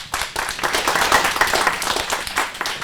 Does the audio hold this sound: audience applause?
yes